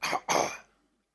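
A short, forceful throat clearing, two harsh rasping bursts close to the microphone, then silence.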